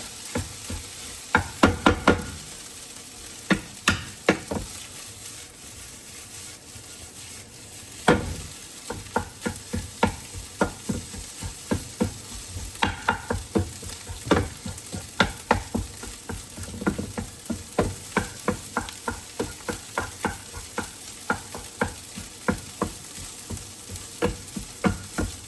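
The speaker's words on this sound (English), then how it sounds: "And then let's stir it up." A spatula stirs spicy egg fried rice with fish sauce in a pan, scraping and knocking steadily at close range over a continuous loud sizzle, with no voices.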